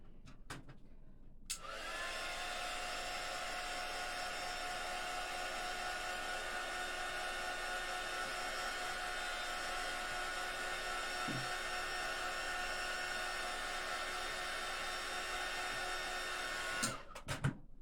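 A hair dryer blows paint dry on a small polar bear zipper charm, starting with a click and running as a steady, loud whir for about fifteen seconds before shutting off.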